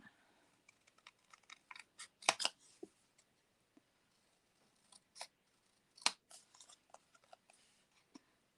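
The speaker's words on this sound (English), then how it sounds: "I'm going to cut that extra paper off." Scissors snip through paper in short, irregular bursts of crisp cuts with pauses between, close and fairly quiet, with no talking.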